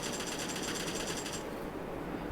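Rapid automatic gunfire in PUBG hammers against a frying pan, a dense rattling burst for about a second and a half that suddenly cuts off, leaving a rougher lingering noise.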